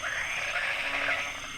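Frogs call steadily in a dense, continuous chorus of croaks, with other frogs audible in the background and no voices.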